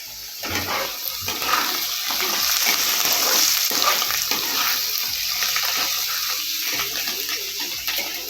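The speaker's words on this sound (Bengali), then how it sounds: "ডালটাকে একটু ভালো করে ভেজে নিতে হবে।" Lentils (dal) fry with salt in a pan while making Bengali-style semolina upma, a continuous close sizzle broken by rhythmic scraping strokes of stirring across the pan.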